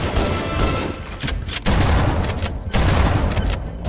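Shotgun gunfire in the Halo: Combat Evolved video game, with loud repeated blasts over a dense, noisy game battle against Covenant enemies, the sharpest bursts arriving at steady intervals.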